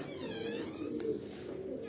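Pigeons in a loft, tournament-flying birds, cooing softly and continuously at close range, a low steady murmur of overlapping calls.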